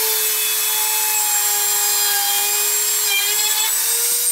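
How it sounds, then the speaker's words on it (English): A Dremel rotary tool drills through a plastic base plate during a wearable steampunk machine build, giving a loud, steady high-pitched whine close by, with no break for about four seconds. "I'm going to drill."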